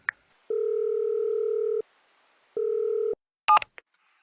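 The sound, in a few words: telephone dialing tones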